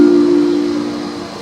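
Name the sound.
trains at Hradec Králové station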